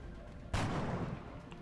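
A single sharp sniper rifle shot in the video game Overwatch cracks out suddenly after a quiet moment, loud and close, with a long rumbling tail that fades slowly.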